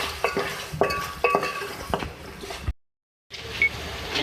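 Beef korma seasoned with salt is stirred in a pot, a spoon scraping and clinking against the metal in a few uneven strokes, close and clear, broken by a short gap of silence before the stirring resumes.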